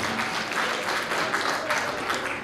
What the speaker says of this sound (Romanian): vă rog încă o dată aplaudați-i